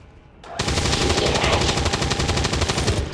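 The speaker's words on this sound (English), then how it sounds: "we are now getting Nicholas Finlay onto the high ground for a flanking shot" Automatic gunfire from a flanking shot in XCOM 2, a sustained rapid rattling burst that starts abruptly after a brief quiet moment and stays loud and close to the end.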